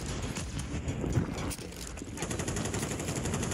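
Rapid automatic gunfire bursts from a first-person shooter video game match, dense and continuous over a mix of game noise and voices talking throughout.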